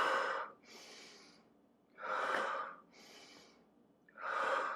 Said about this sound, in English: It's a yogi exercise where you just take a deep breath in as you bring your arms back. And as you exhale, just like the bellows for a fire.